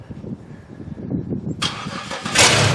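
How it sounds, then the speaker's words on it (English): Toyota Camry fitted with a 3100 Lumina engine starting up: a brief low cranking churn, then the engine catches with a sudden loud burst that swells into a revving roar, close by with no talking. "Start it up, Steven."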